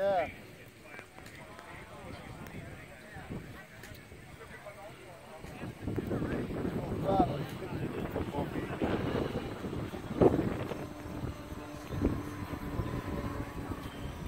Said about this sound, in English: considering how windy it is